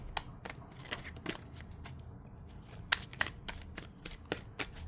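Tarot cards being shuffled for a reading, a run of rapid crisp riffles and flicks with sharp snaps scattered through, close and moderately quiet over a low background hum.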